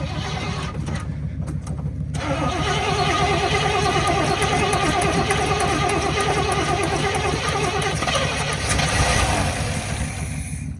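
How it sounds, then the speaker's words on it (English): A 1979 Chevy C10 Sport Stepside truck engine cranks briefly, then catches and runs at a rough, loud idle with an uneven throb, close by and without talk. "All right, George, give it a crank, see if it starts."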